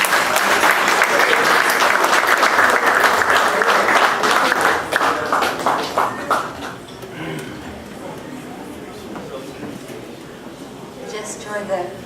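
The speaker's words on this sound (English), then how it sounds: "Please give her a round of applause." Audience applause at a jazz memorial gathering, a loud steady round of clapping that gradually thins out and gives way to quieter room noise.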